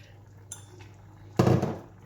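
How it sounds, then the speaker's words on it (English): A spoon clinks against a pan, then a short burst of stirring follows as double cream is mixed into pumpkin soup, close and brief, with no talk. "Give it a stir around, make sure it's all mixed in."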